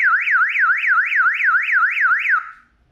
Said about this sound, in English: Testing the siren.